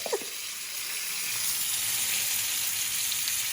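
Beef tenderloin searing in a hot pan gives a steady, bright sizzle that holds evenly throughout, close and moderately loud, with a brief faint knock at the start and no talk.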